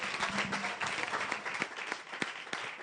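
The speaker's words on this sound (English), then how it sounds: "one more round of applause for VesiCash" Audience applause at a justice innovation challenge regional final in Lagos, a steady wash of many hands clapping for nearly three seconds with no talking.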